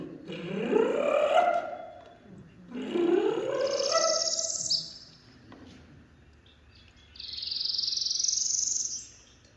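A migrating bird's call repeats in long, drawn-out phrases with a descending, whistled quality, then higher thin notes, heard alone against quiet background hiss, played as a recording.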